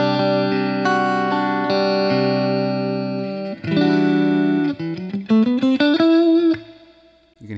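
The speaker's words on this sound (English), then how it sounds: "It's set to a spring reverb, which kind of is the most natural to a what would be in a tube amplifier." Electric guitar with a single-coil pickup, played clean through spring reverb, ringing sustained chords and then a run of plucked single notes that trail off into a reverb tail, played alone.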